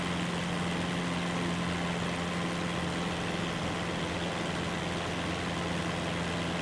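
Aircraft engine in Microsoft Flight Simulator 2024 pushed toward maximum RPM, giving a loud, steady, continuous drone with a low hum underneath and no pauses or talk.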